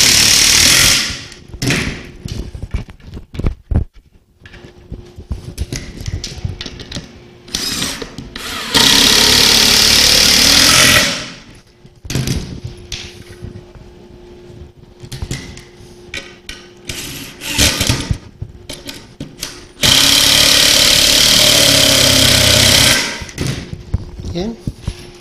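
A power tool drives screws into pre-drilled, countersunk holes while building a wooden entertainment center, with loud sustained bursts of whirring separated by quieter handling knocks and talk.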